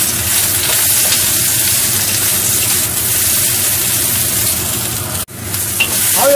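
Onion and garlic stir-frying in a hot wok give a loud, steady sizzle throughout, with a brief dip near the end as the pan is moved.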